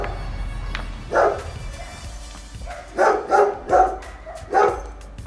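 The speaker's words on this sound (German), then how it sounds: "Da haben wir einen Hund." A dog barks several times in a building still under renovation, one early bark then a quick run of three and a final bark, moderately close with no talking.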